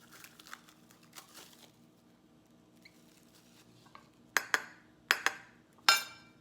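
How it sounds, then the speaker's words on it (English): Salad ingredients such as peppers, onions, pimento and oregano are mixed in a bowl: soft rustling and quiet scraping at first, then four sharp, close clinks of a utensil striking the bowl. "So now I am going to mix my ingredients together."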